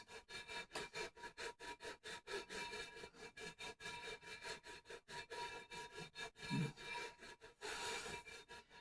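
Guitar frets sanded with a 400 grit abrasive, a steady back-and-forth rasping scrub in even rapid strokes, close and continuous throughout with a brief pause near the end.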